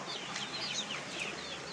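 Hens cluck continuously in a poultry enclosure with young chicks, a busy layer of soft, overlapping calls at close range with no voices.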